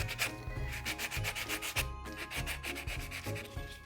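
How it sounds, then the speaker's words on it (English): Resin pieces are buffed down with a small nail-file buffing block, a rapid rhythmic scratchy rubbing of strokes repeating steadily at close range, with no voices. "take one of these little nail file buffing blocks and sand them right"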